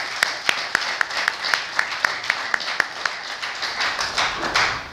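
A ceremonial audience at an investiture gives brisk applause, with a few loud, evenly spaced individual claps standing out over a lighter scattering of hands that swells into fuller clapping near the end.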